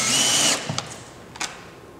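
A power drill drives fasteners into the back flange of a roof hip and ridge cap with one brief, loud whir that stops abruptly, followed by a couple of faint clicks and taps.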